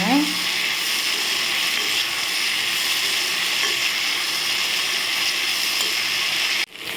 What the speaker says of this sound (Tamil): நல்லா சுண்டக்காய் வதக்கிட்டு எடுத்துக்கோங்க